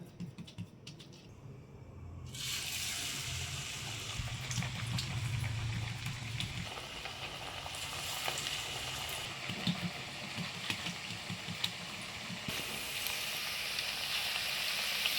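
Ragi roti fries in hot oil over a medium flame. A steady crackling sizzle starts suddenly after a quiet moment and keeps going close and even, with occasional sharper pops and no talking.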